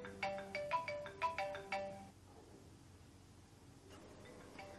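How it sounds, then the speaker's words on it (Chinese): A mobile phone rings with an incoming call, a bright repeating melodic ringtone in quick rising note groups for about two seconds, fairly faint and close, then quiet room tone with a soft later note and no speech. "又打来了。 哎，叫什么名啊？ 那是浩凡。 快接电话去"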